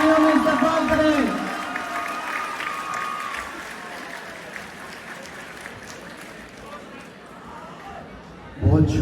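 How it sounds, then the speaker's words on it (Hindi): An audience at a poetry gathering at Superior College, Kot Momin, gives applause that starts loud and thick, then thins into a long, fading patter of scattered claps, with a voice rising briefly at the very end. "भरपूर तालियों में इस्तकबाल करें।"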